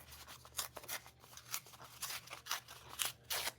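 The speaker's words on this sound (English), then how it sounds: "I'm gonna rip a piece of embossed paper" A piece of embossed paper being ripped by hand, a run of short dry tearing bursts repeating at uneven intervals over a low steady room hum, close and fairly quiet.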